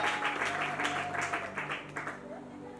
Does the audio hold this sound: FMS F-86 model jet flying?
no